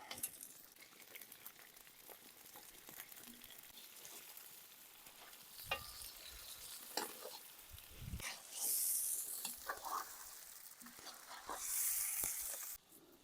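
Onion and meat fry in a pan, giving a faint, steady sizzle with scattered stirring clinks and bursts of hiss. The sound is fairly distant and low, and brief voices come through in the background.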